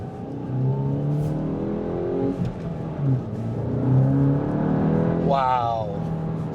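A VW MK8 GTI accelerating hard in second gear, the engine note rising steadily and fairly close, with a person exclaiming over it near the end.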